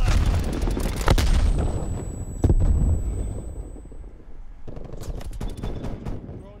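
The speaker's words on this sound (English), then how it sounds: "I laid a whole clip into that dude." Heavy automatic gunfire in a Black Ops Cold War beta match roars in loud, close bursts, with sharp booming shots standing out, then fades into scattered firing as a player speaks briefly.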